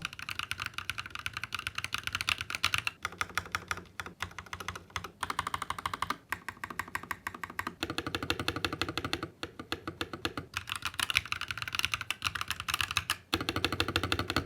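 Loud, clacky typing on a Hator Rockfall Mecha mechanical keyboard with pink switches, in fast continuous bursts with brief pauses, close and alone with no talking.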